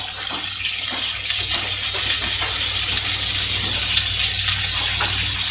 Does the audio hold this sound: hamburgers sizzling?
yes